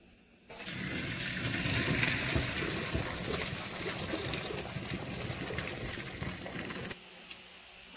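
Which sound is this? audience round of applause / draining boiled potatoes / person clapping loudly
draining boiled potatoes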